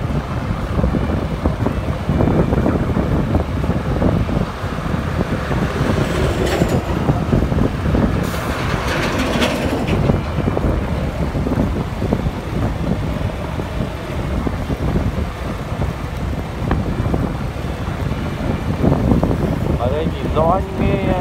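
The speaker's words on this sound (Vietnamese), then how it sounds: "Gió rất là to." Strong wind buffets a microphone while crossing the Tân Vũ bridge at night, a loud continuous low rumble with roaring gusts and a faint clatter now and then.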